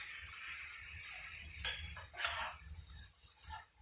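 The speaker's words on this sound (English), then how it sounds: "now I'm going to mix everything up and start cooking everything all together" Shrimp and chicken fried rice ingredients being mixed together, a few light clinks and scrapes of a utensil against the pan over faint background hum, quiet and close.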